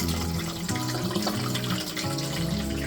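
Tap water running steadily into a small dish to moisten a sick cat's food, a close, continuous splashing pour with no talk.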